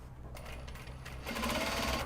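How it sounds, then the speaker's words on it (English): A sewing machine top-stitching the fronts of mini traveller sling bags made from Japanese fabric, a close, steady mechanical whirr that grows louder and faster partway through. "We got most of the top stitching done on the fronts of the mini traveler slings, so that's a nice step forward."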